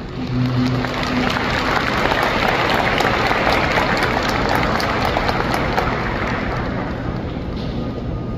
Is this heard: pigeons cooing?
no